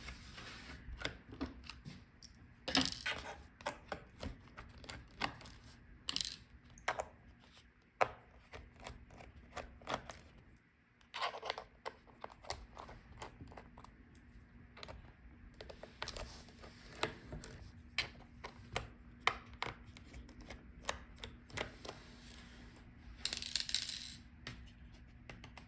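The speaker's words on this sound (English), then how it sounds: "Take out all the screws." A T5 Torx screwdriver backs out the bottom case screws of a Dell XPS 9510 laptop, producing quiet scattered clicks, small metallic taps and handling rattles over a long stretch, faint and close, without speech.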